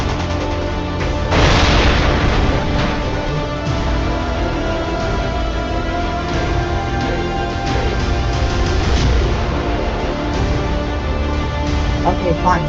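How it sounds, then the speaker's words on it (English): A bomb explosion in a history documentary, a deep loud boom rumbling into a sustained, dense roar of blast noise with sounds layered on top, filling the whole stretch. "The bomb's coming in."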